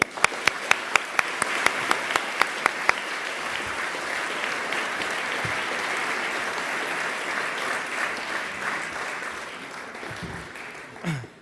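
An audience claps for a speaker walking onstage at a lecture. A few sharp single claps open into steady, full applause from a large crowd, which thins and fades before a brief thump at the end.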